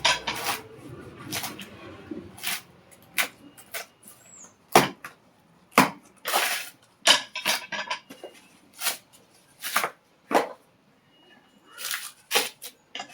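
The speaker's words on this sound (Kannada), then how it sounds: "ಕಾಯಿ ಸುಲಿತಾ ಇದ್ದೀನಿ" A coconut being dehusked by hand at home gives irregular sharp cracks, tearing rasps and dull knocks, close and fairly loud, coming in uneven bursts with brief pauses between.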